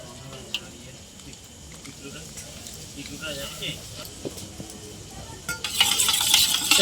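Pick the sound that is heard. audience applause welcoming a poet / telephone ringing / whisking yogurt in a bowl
whisking yogurt in a bowl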